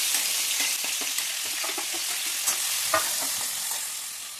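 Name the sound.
onion, tomato, ginger, garlic sautéing in coconut oil in a pan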